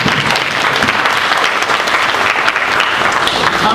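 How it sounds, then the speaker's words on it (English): An audience at a men's empowerment program in a senior center gives a loud, close round of applause, with dense clapping and a faint crowd murmur that stays steady throughout. "So let's give him another applause."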